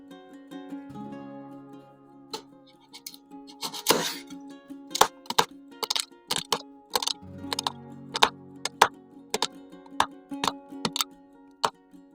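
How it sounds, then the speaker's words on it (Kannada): Washed nannari root is chopped into small pieces on a board, giving a series of crisp, close knife knocks in uneven bursts with short pauses. "ಇದನ್ನೀಗ ಒಂದು ಸಣ್ಣ ಸಣ್ಣ ಪೀಸ್ ಆಗಿ ಕಟ್ ಮಾಡಿಕೊಳ್ತೇನೆ."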